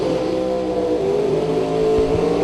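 An Outlaw Big Tire drag racing car at a drag strip event thunders steadily and loudly, its engine roaring and revving continuously with a deep sustained drone and no clear talk over it.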